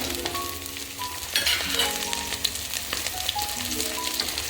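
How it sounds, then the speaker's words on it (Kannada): Green chillies fry in hot oil in a pan, giving a steady crackling sizzle close by with a few sharper pops and faint stirring scrapes, and no talking. "ಹಸಿಮೆಣಸಿನ್ಕಾಯಿ ಫ್ರೈ ಆಗ್ತಾ ಇದೆ."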